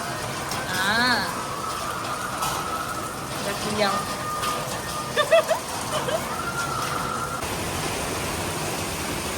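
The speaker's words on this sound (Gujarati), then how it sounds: "અત્યારે વરસાદ બહુ ચાલુ છે. બહુ એટલે બહુ અત્યારે પવન પણ બહુ સાથે એટલો છે." Heavy rain driven by strong wind in a monsoon downpour, a steady loud rushing wash that fills the whole scene, with a voice speaking over it throughout.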